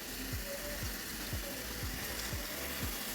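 Chili spice paste fries in a pan with a steady broadband sizzle, accompanied by a regular series of low scraping strokes, roughly every half second, as it is stirred; no talking.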